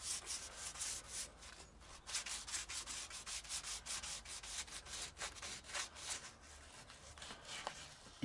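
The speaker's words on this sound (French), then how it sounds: "prendre l'abrasif directement à la main pour aller derrière" Abrasive paper rubbed by hand over a car's bodywork while it is prepared for red candy paint, a steady rhythmic back-and-forth scratching, close and quiet, with no talking.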